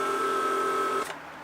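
A Mercedes S-Class central door-lock pump runs on a bench test, building pressure with a steady tonal hum for about a second before cutting off with a short click, then near silence.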